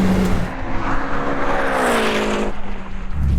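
A 700bhp Subaru Impreza GC8 and a 700bhp Mitsubishi Evo drag race, their engines roaring loud and continuous with rising and falling pitch as they pull through the gears.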